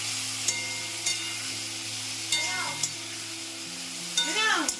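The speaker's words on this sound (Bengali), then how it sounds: "নুন দিয়ে ভাজবে" Spinach fries with salt in a pan, giving a steady close sizzle broken by several sharp scrapes and stirring clacks of a utensil against the pan.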